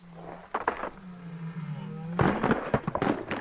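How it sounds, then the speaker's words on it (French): Sea ice cracking underwater during the spring thaw in bowhead whale waters, a series of sharp popping bursts like distant fireworks, clustered near the start and again more densely toward the end, over a steady low tonal hum. "La glace se fissure."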